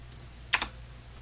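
Two quick keystrokes tap on a computer keyboard during 3D modeling work, a brief close burst over a quiet room hum.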